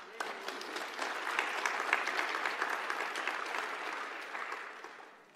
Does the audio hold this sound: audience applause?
yes